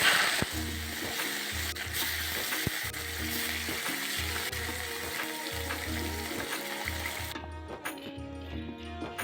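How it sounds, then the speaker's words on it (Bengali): Fish pieces frying one by one in hot oil in a village kitchen, a steady close sizzle with stirring and clattering, alone without talk. "এরপর আমি এক এক করে মাছ কটাকে ভেজে নেব"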